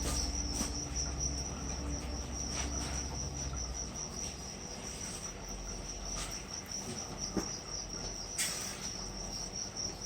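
Steady high-pitched chirping from crickets placed in sand continues throughout, with soft scratching and rustling noises close by underneath.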